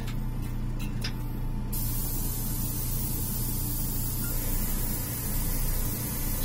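An airbrush sprays flesh-tone paint in a light mist onto a Batman prototype figure with a fan running, giving a steady close hiss over a constant low hum.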